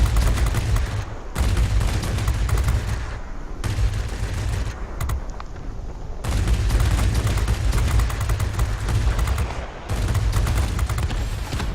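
Me 410 aircraft guns firing in a flight combat video game: long loud bursts of rapid heavy gunfire broken by brief pauses, under a constant engine roar, with no speech.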